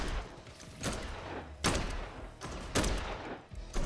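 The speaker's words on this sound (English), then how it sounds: "So I'm really tap firing this bitch." Repeated single shots from a gun tap-fired in Dead Island 2, spaced roughly a second apart over a dense, noisy background of game sound.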